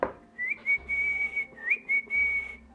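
A person whistles a short, wavering tune with lips, a clear thin tone broken into several phrases with slight pitch slides, close and fairly quiet, with no talking.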